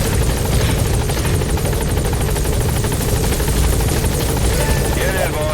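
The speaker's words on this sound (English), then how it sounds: "Support helicopter has arrived." A support helicopter in Metal Gear Solid V arrives at the landing zone. Its rotors make a loud, close, steady thrum and whine that continues without a break.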